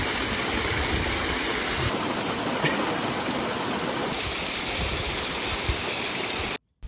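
A river flowing a little downstream in a valley, a loud, continuous rushing wash of water that holds steady throughout before cutting off abruptly at the very end.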